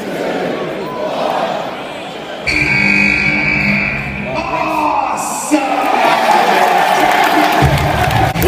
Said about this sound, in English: They won't stop booing him.